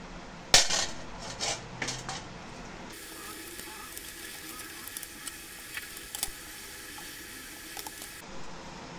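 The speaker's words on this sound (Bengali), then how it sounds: "এই জালি দিয়ে তালটা ছেঁকে নেব এই হাঁড়িতে।" Cooked palm fruit pulp is strained through a mesh sieve into a pot, with a sharp metallic clank at the start, then soft scraping, wet patter and occasional taps against a low, steady hiss.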